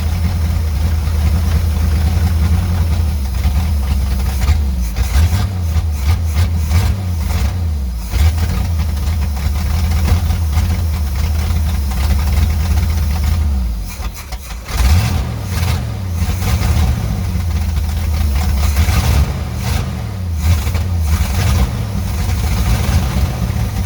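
A 1972 Chevrolet C30 truck, left abandoned on a farm for years, runs with a loose choke, holding a steady loud rumbling idle that surges and revs in a few bursts, with a brief dip partway through.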